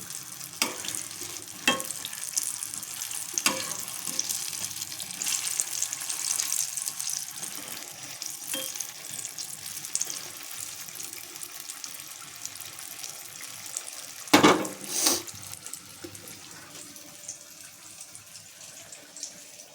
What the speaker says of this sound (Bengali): চপগুলো হচ্ছে, ভাজছে